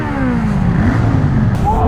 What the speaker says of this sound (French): C'est pas trop le type de moto que je prendrais, mais c'est cool à tester.